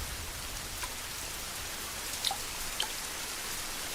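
Steady rain falling as an even hiss with a few faint drips, no voices.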